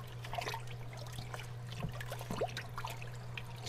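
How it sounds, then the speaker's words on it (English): Aquarium filter sponges squeezed and shaken out in a container of water in a fish room, giving a steady near trickle and dribble with small splashes over a constant low mains hum. "Squeeze them out all in the water."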